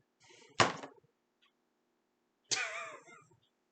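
Two short meow-like cries, the first abrupt and sharp, the second longer with a wavering pitch, separated by a stretch of near silence.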